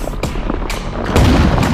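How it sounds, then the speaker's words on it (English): A thrown bomb explodes in a dramatized audio story, heard as a series of deep booms and thuds, with a heavier, louder blast near the end of the short stretch. "The explosion stopped the beast in its tracks, confusing it."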